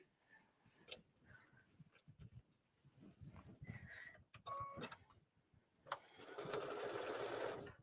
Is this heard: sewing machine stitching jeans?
yes